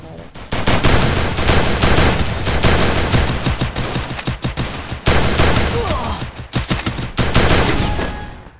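Free Fire, a mobile battle-royale game, fires dense, continuous rounds of automatic gunfire. The loud bursts are layered on top of each other and run almost unbroken through the whole stretch.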